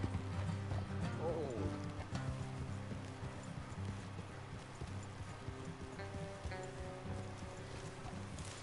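Horse hooves clip-clop in a steady rhythm beneath an ongoing rumble, joined by faint rain-like patter, with a voice speaking over it, in the video game Red Dead Redemption 2.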